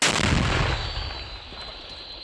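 A single powerful anti-tank weapon shot, fired by a Ukrainian territorial defense anti-tank platoon, booms right up close, its blast rolling into a long rumbling decay.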